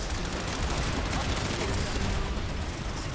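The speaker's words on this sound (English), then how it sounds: "Somebody's like spamming EMP grenades out here." Rapid, overlapping bursts of EMP grenades being spammed in the online shooter PlanetSide form a loud, dense, continuous crackling barrage with no pause from start to end.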